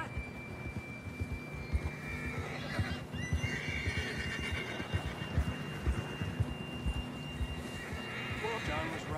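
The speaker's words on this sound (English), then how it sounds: "John was riding that horse when we left Blackwater" In the video game Red Dead Redemption 2, a horse whinnies loudly while hooves clop nearby, over a faint steady tone and a busy outdoor rumble.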